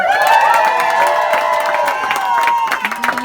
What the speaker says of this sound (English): Who's cheering for Josh on the green team?